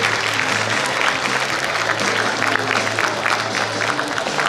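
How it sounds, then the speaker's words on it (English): A crowd at a school quiz competition gives steady, dense applause, with many hands clapping at once. The sound stays loud and constant throughout, with no one speaking over it. "Louder, louder, come on, big round of applause"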